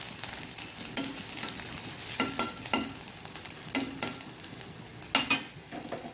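Vegetables for Mangalore-style corn cutlets sautéing in oil in a pan, with scattered stirring clinks and scrapes over a soft, steady sizzle, close and fairly quiet, no voices.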